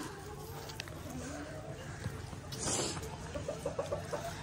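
Chickens and a rooster kept at a home pen in India cluck in a short run of repeated calls near the end, over steady background noise and low voices.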